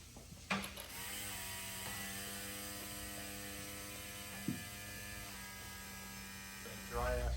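Electric vacuum pump on a McLaren 650S humming and whirring steadily after first key-on, a close mechanical drone with a clear tonal whine, a couple of small clicks, and a louder surge near the end.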